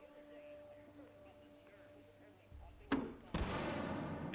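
A HE frag explosive grenade goes off in a video game, two sharp blasts close together and loud, each trailing into a rumbling decay over a low background hum.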